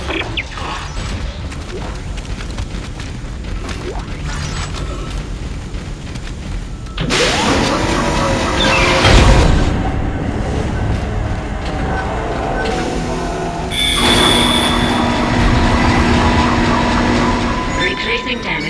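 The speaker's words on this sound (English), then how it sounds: "Replacing damaged tram car." A damaged tram car being swapped out on the track in the sci-fi game Dead Space, heard as loud mechanical rumbling, clanks and creaking metal that swell midway and again near the end, with no talk.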